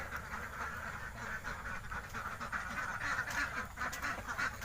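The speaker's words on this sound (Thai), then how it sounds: "น้องเป็ดอยากออกมาแล้วครับ" Ducks penned behind a door quack continuously in a dense, fairly faint chorus, many birds calling over one another with no pauses.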